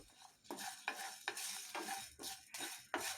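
Cardamom, cloves and small pieces of cinnamon roasting in a pan, stirred in quick repeated scrapes over a soft sizzle, fairly faint and with no talk.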